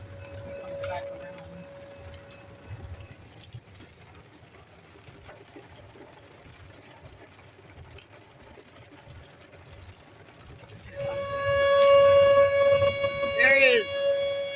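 A Whelen Vortex outdoor warning siren wails in the distance during a storm, faint at first and then swelling louder as it rotates back around, with a person talking and wind and rain noise underneath.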